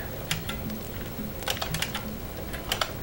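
Someone types on a computer keyboard, producing quiet, rapid, irregular key clicks with occasional louder taps and no talking.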